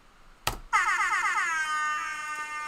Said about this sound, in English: I'm going to give you an air horn